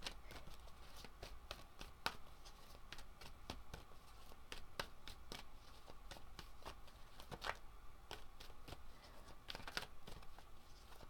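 Tarot cards being shuffled by hand, a quiet, irregular series of light taps, flicks and riffling crinkles scattered across the span, faint and close with no talking.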